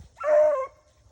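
One short, sharp bark from a hunting dog out in the field, fairly close and alone against quiet background.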